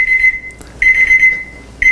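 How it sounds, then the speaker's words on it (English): A kitchen timer beeps during preparation of beef dino ribs, a loud, shrill electronic tone repeating in bursts of about a second with brief gaps, near and alone. "There's my timer going off."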